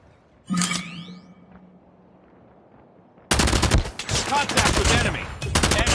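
Gunfire in Call of Duty Mobile: a single sharp shot with a ringing tail, a quiet pause, then sustained loud rapid automatic bursts that continue to the end.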